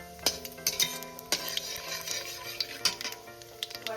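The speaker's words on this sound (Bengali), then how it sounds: "এবার আমি এর মধ্যে দিয়ে দেবো কালো জিরেটা।" Black cumin seeds tipped into green chilies frying in oil, a light sizzle under repeated sharp metal clinks and scrapes of a spoon against the pan.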